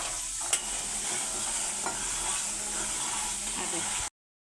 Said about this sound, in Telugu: ఇప్పుడైతే మనం ఇవి వేయించుకున్న గవన్లు అయితే దీనిలో వేసేసుకొని తిప్పుకుందాం